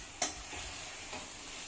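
Cabbage, onions and green chilies being stir-fried in a pan over high flame, giving a soft steady sizzle with a sharp clack of a utensil early and a few quieter stirring scrapes.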